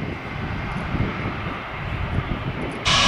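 A JetBlue jet airliner passes at an airport with a steady, moderately loud engine roar, ending in a sudden burst of brighter noise at the close.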